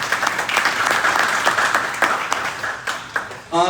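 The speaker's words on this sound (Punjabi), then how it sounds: "ਸੋ ਕੋਚਸ ਵਾਸਤੇ ਇੱਕ ਵਾਰੀ ਤਾੜੀਆਂ" A crowd at a Fresno academy gathering honoring its coaches and volunteers claps in steady, fairly close applause that tapers toward the end, with a faint voice beneath.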